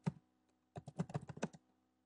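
Keys clack on a computer keyboard as a command is entered at a Domino server prompt: one tap, a pause, then a quick close burst of several keystrokes with no talk.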